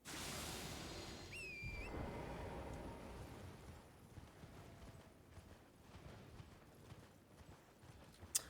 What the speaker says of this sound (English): oh, I see a horse, but there's nothing riding on top of it